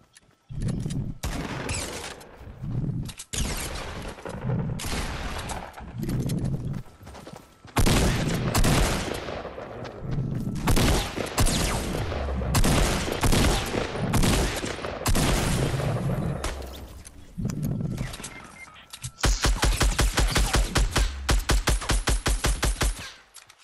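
Rapid gunfire bursts in a Fortnite battle royale match, loud and close, with repeated volleys and a fast machine-gun stretch near the end, under occasional voice chatter.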